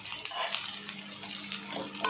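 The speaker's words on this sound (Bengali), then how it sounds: "দিয়ে একবারই নাড়াচাড়া করছি" Stirring in a frying pan where beans and onions cook in hot oil, with soft scraping and clinks over a steady low sizzle, close and fairly quiet.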